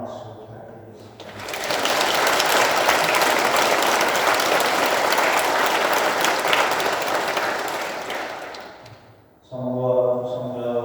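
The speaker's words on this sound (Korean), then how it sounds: "김영호 신부님, 야고보 신부님, 신부님께 따뜻하게 격려 박수 부탁드리겠습니다." Congregation applauding warmly for visiting priests during a Sunday Lenten Mass in a Catholic church, a long steady burst of many hands clapping that fades out, with a voice speaking briefly before and after.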